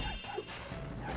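A dog or pet wolf barking in the Spyro: Year of the Dragon video game, a single short, loud bark amid dense game music and effects, with no talking.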